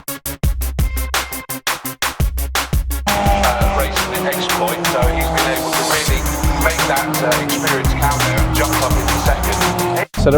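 BMW Z racing cars at Snetterton accelerating away from a rolling start, with loud engine roar building as a pack of cars, preceded by rapid rhythmic clattering and buffeting, likely in-car, then a sustained rising drone.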